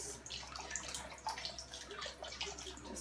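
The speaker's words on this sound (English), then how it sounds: "So I pour that over the bones" Bragg's apple cider vinegar pouring over roasted bones for homemade bone broth, a soft continuous trickling splash with a few faint drips, close by and fairly quiet.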